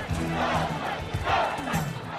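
A large crowd in a film scene from Ghostbusters chants a rhythmic shout in repeated bursts, fairly loud and reverberant, with voices rising and falling together over the ambience.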